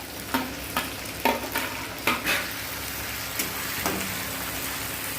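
Chopped tomato frying with ginger-garlic paste in a pan for tadka dal, a steady sizzle broken by a few sharp scrapes and stirs of a utensil against the pan.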